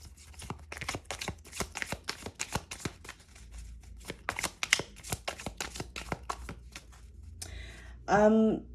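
Lightworker Oracle cards being shuffled by hand in a steady run of quick riffling taps and slaps, close and fairly loud with no talk, ending in a brief squeaky scrape near the end.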